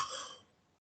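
A single close cough, sharp at first and then trailing off into a breathy fade, followed by brief silence.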